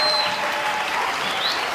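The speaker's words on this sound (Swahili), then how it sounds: "tumshangilie Bwana Yesu na makofi ajabu" A congregation at a CBCA Rughenda Sunday church service breaks into applause, a brief burst of many hands clapping together at a steady, even level from start to finish.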